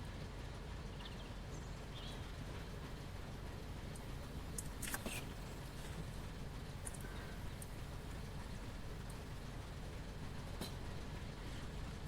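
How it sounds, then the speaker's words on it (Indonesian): Slow-rolling train in a US train simulator game easing toward a stop, a steady low rumble with faint occasional clanks and squeals throughout. "kereta bergerak secara pelan menuju titik pemberhentian stop"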